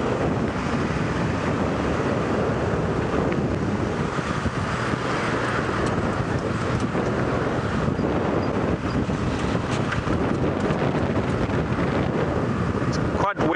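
Steady, heavy wind buffets the microphone throughout in a clearing around a safari airstrip, a continuous broadband roar with no pauses.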